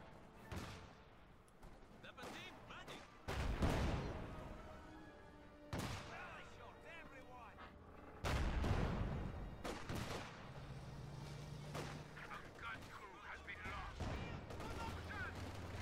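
Sniper and other gunfire from the Company of Heroes 2 strategy game crack out in sharp, scattered shots with booming impacts, spaced irregularly over a rumbling battlefield backdrop.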